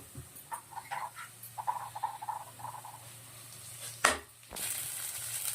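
Ginger garlic paste and turmeric frying in a pan for chicken samosa filling, a soft sizzle with light scraping and stirring clicks, then a sharp clatter near the end and a steadier hiss rising afterward.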